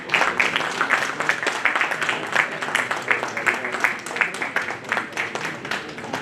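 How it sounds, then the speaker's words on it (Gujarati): An audience at the inauguration of a fabric expo keeps up dense, steady applause for several seconds, with many hands clapping close together and fairly loud, and voices faintly mixed in. "આપણે સૌ એમને તાળીઓથી વધારશું."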